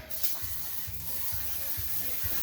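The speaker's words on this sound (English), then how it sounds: "take some of this degreaser" Degreaser is sprayed in short repeated bursts onto an old snowblower, about five quick hissing spritzes at a steady rhythm, close to the microphone over a constant background hiss, with no talking.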